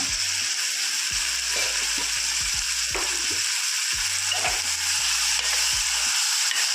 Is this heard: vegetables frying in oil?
yes